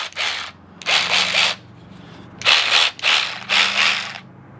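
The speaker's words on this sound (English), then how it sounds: "Here's the actual electric ratcheting wrench." A cheap 3/8-inch electric ratchet wrench from Amazon runs in four short whirring bursts with brief pauses between them, close and loud, with no voices.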